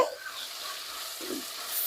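Tomatoes and chickpeas frying in a pan are stirred, giving a soft sizzle with scraping stir strokes, brief and fairly quiet.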